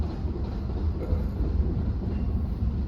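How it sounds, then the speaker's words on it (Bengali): A goods train rumbles past outdoors, a heavy, continuous low-pitched roll of wheels and wagons that stays steady throughout with no voices. "এটা মালগাড়ি যাচ্ছে।"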